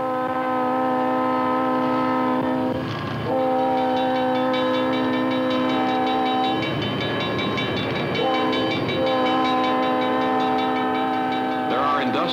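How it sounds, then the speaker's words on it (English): Freight train rolling past with a loud sustained chord horn sounding repeated long blasts at a crossing, over the rumble and clatter of the wagons, heard close. "People know the sound and meaning of the crossing whistles."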